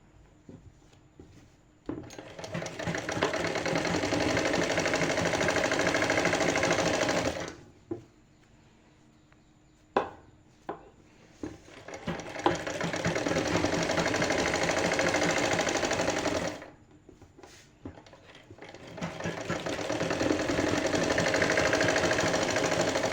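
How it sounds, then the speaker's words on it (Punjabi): A sewing machine stitches a sleeve seam in three long, steady motor-driven runs, close and loud, broken by short pauses with small clicks and handling noises between them. "ਹੁਣ ਆਪਾਂ ਦੂਸਰੀ ਸਾਈਡ ਸਲਾਈ ਲਗਾਵਾਂਗੇ"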